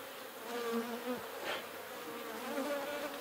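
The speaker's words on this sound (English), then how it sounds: "Looks like they got a good number of bees down there" Honeybees hum in a horizontal beehive, a close, continuous buzzing with individual bees droning past and shifting in pitch.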